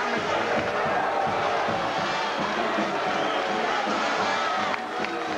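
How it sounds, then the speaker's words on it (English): An arena crowd at a wrestling bout between John Super D Duplessis and Richie Albrecht boos, a dense, steady roar of disapproval that fills the hall without letting up. "And they are booing."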